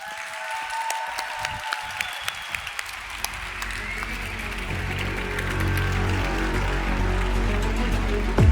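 An audience at a plenary session gives a sustained round of applause, a dense, even clatter of many hands that builds steadily louder over several seconds.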